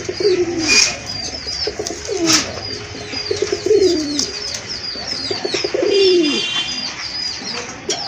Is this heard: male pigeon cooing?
yes